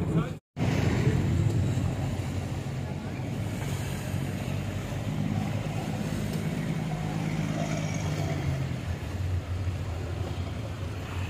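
A steady engine drone with a rushing wash of water and wind, continuous and fairly close, as a river boat moves along in Bangkok.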